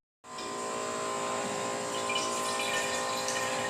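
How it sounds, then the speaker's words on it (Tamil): Tap water runs steadily into a container to store drinking water at home, starting abruptly and continuing as an even, close hiss and splash with a slight rise in pitch as it fills. "வாங்க தண்ணியை ஃபில் பண்ணி வச்சிடலாம் குடிக்கிற தண்ணி"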